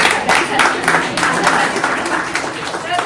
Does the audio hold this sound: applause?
yes